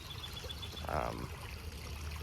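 Water flowing through a homemade backyard stream feeding a recreation pond, a faint steady trickle and splash with a brief louder gurgle midway, heard alone at low level.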